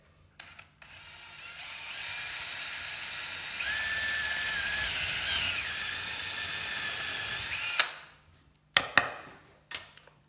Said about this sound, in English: I'm going to drill all the way through again.